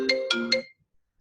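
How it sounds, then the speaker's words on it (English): A phone rings for an incoming call, three quick bright chime notes in a rising pattern, then cut off into silence; close and clear with no talking over it. "sorry, I just have a lot of phone calls today."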